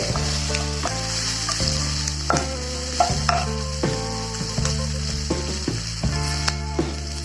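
Curry leaves and green chili sizzle and fry in oil for a Chettinad mushroom gravy, with a steady close crackle broken by regular scraping stirs and soft background music.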